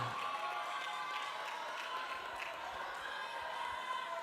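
Audience at a final public mayoral candidate debate applauds a candidate pair, a steady distant wash of clapping and crowd noise across the hall.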